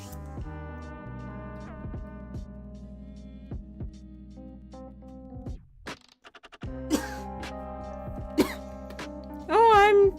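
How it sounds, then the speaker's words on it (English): A single person coughs up close during an art stream, a couple of rough bursts near the end over a quiet musical background. "coughing."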